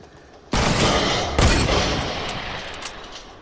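Heavy gunfire in Fortnite Battle Royale erupts abruptly and close, a sustained loud burst with a second sharp report partway through, then fading down as it rings out.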